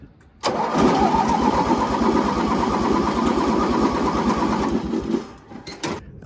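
A barn-find MTD Yard Man 18HP hydrostatic riding mower cranks and catches, then runs at a rough, fast, rhythmic chug for several seconds before dropping off, loud and close.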